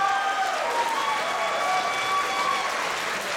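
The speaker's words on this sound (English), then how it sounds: "give him a round of applause as he leaves the stage" A game show audience at a fan convention applauds a departing contestant with steady, sustained clapping that fills the room, a few faint tonal lines running beneath it and little talk.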